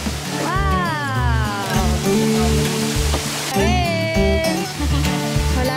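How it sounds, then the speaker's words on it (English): Steady rushing water from a man-made waterfall on a farm fills the background while several people talk and exclaim loudly over it. "Kami sa man-made waterfalls ng the farm."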